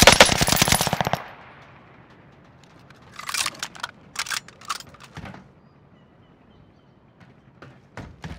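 Gunfire from Call of Duty: Modern Warfare, with a dense burst of automatic fire up front, then scattered bursts and single shots in the middle and a couple of sharp cracks at the end.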